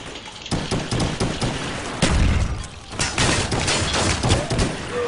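Gunfire in a PS3 GRID Demo competitive shooter match: rapid bursts of shots and sharp cracks in irregular volleys, fairly loud, with no talk.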